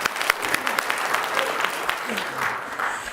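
An assembly audience at a climate action event applauds in a brief, steady burst of clapping, fairly close and continuous, with some voices mixed in beneath the claps.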